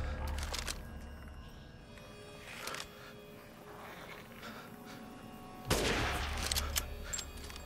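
Gunshots in Resident Evil Village: a few sharp shots early, then a quieter stretch of low ambience before a loud blast near the end, followed by lingering reverberant noise.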